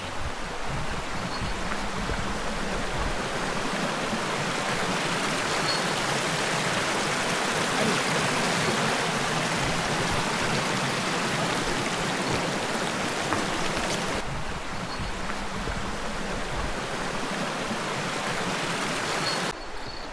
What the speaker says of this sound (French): Là on est à la rivière.